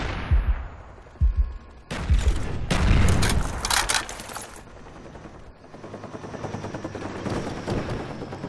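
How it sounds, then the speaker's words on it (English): Rapid automatic gunfire from an enemy sentry gun in Call of Duty Black Ops on the Hanoi map, loud sustained bursts mixed with other weapon fire, booms and a helicopter drone in a busy multiplayer battle. "Enemy sentry gun incoming"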